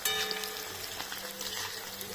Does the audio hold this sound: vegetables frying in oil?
yes